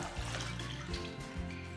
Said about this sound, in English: And I'm going to add a cup of water.